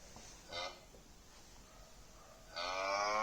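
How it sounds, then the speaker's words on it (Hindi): Recorded cow moo played from a Bhagavad Gita speaker toy, two electronic lowing calls, a short one early and a longer, louder one at the end, over faint background hiss. "इसके अंदर काउज है तो इसके अंदर काउज की आवाज़ आएगी"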